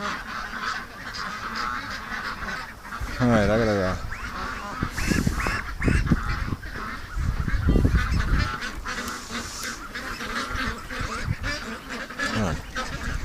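Ducks at a creek honk and quack in a cluster of calls, close by, over outdoor background noise while a person talks to them.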